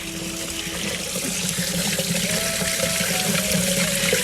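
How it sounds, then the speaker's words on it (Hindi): A small waterfall in Klosterenga Park, Oslo, rushes and splashes in a steady, loud flow heard up close, with no talk over it. "तो ये अलग झरना सा है छोटा सा, इसको देखें।"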